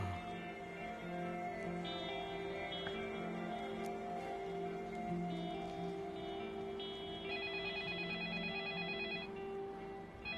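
A phone rings continuously in an indoor scene from a Thai school drama, a steady ringtone pattern repeating over a dense, sustained background with no talk.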